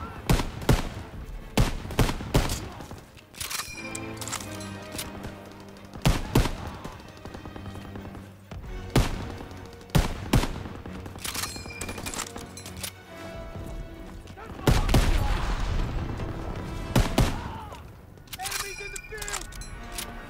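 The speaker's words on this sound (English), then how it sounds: "Machine gun. Take cover. Hit the MG." Machine gun fire in Call of Duty WW2 cracks out in loud repeated bursts and single shots, some rapid and close together, with pauses between volleys and people talking over the fighting.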